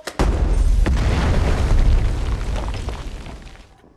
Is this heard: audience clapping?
no